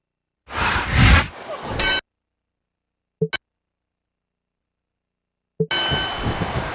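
Ring bell in the WWE SmackDown vs Raw 2009 wrestling video game, two short sharp metallic clangs in quick succession, with game music and crowd noise before and after.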